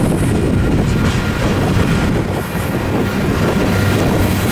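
A westbound BNSF grain train with a mid-train distributed power unit rolls out of Mojave, a loud, dense, continuous rumble with clattering wheels and faint squeal, close to the microphone and with no speech.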